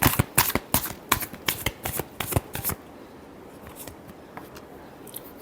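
Tarot cards shuffled by hand in quick riffling bursts, about a dozen crisp flutters in close succession, then a quiet pause with a few faint card taps.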